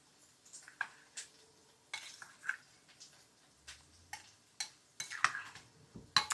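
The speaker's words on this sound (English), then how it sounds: "Let's give the strawberries another little mix" Strawberries being mixed in a bowl, with soft, scattered scrapes and light clicks of a utensil against the bowl. The taps are faint and irregular against a quiet kitchen background.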